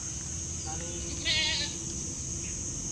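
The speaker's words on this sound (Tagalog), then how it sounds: "Yan yung mga kambing ko na pinapaalaga ko sa kapatid ko." A single goat bleats briefly over a steady hum and low rumble of outdoor background noise, with a faint shorter call just before it.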